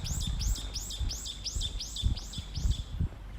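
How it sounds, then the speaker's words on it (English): A bird repeats about eight quick, bright chirps in an even rhythm on an early morning in a Tokyo park under a bridge, clear and fairly close over a low background rumble. "birds are nesting, I think."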